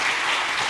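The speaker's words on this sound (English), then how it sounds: "You can have your applause." A short burst of audience applause at the close of a technical conference talk on concurrent JVM programming, a steady hiss of many hands clapping.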